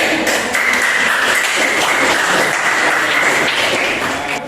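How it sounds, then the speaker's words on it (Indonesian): Students in a classroom give sustained applause, a loud, steady wash of many hands clapping close by that holds at an even level throughout. "Kita beri tepuk tangan."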